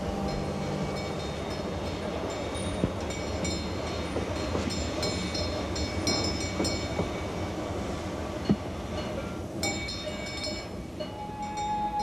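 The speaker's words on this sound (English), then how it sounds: "trains have a sound all their own" A train in Switzerland rolls steadily along the rails, a continuous rumble with rhythmic clacks, metallic rattles and occasional squeals from the wheels.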